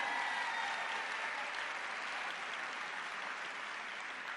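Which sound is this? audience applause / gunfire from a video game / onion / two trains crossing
audience applause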